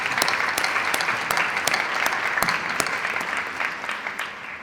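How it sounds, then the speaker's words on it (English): An audience at a drone program event applauds students with a full, continuous round of clapping that stays loud and eases slightly toward the end. "Let's give our students a round of applause again."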